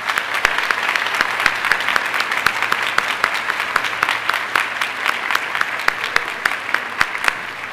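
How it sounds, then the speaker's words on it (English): Audience at a high school senior awards night applauds the award winners with dense, steady clapping that carries evenly for several seconds, with no voices above it. "Let's do one big round of applause for all the winners tonight."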